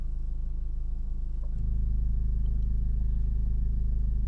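Abarth 595 Competizione exhaust idling in Abarth mode: a steady, pulsing low rumble that steps up to a deeper, louder burble partway through and holds there, heard alone and close.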